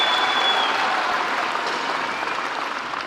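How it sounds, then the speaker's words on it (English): A large crowd at a Kenyan political manifesto event applauds a deputy president, giving dense, loud, continuous clapping that stays steady and gradually eases off slightly toward the end. "Another round of applause for His Excellency"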